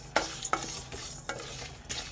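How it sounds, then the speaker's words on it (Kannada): Spices fry in a pan for a bitter gourd gojju, a faint steady sizzle punctuated by a few sharp scrapes and taps of a spoon stirring against the pan. "ನೋಡಿ ಎಲ್ಲ ಚೆನ್ನಾಗಿ ಹದವಾಗಿ ಫ್ರೈ ಆಗ್ತಾ ಇದೆ"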